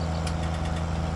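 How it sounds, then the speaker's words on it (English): Fendt Trisix tractor engine in Farming Simulator 19, a steady low mechanical drone with a constant rumble, heard close and alone for about a second. "So let's see how fast this tractor can go."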